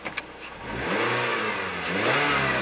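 A 2012 Scion tC's 2.5 four-cylinder engine is revved up close by after a couple of short clicks, its pitch rising and swelling in two climbing pulls.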